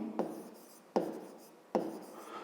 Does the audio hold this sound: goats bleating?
no